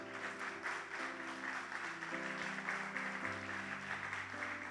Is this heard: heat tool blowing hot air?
no